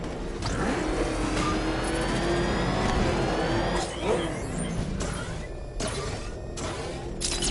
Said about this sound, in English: The Arkham Knight's vehicle swerved and crashed.